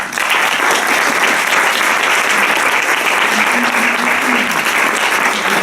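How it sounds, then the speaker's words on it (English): Sustained applause from a lecture audience, dense and steady for the full stretch at close range, with no voices rising above the clapping. "who deserves a quick round of applause for pulling all this together"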